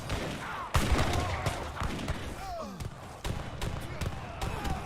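Artillery fire booms during a video game battle, with repeated sharp blasts and crackling gunfire over a dense, noisy battlefield, partly under a commentator's voice.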